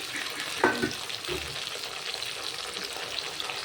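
Hilsa fish and chopped tomatoes fry in a wok for a poppy-seed hilsa dish, giving a faint, steady sizzle with one brief clink near the start.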